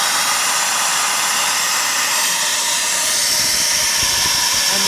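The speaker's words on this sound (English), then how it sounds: "if we move the air nozzle from cylinder to cylinder" Compressed air from a nozzle blows into a cylinder of a Fiat header in a steady, loud, close hiss that continues without a break across the whole stretch, with no talking.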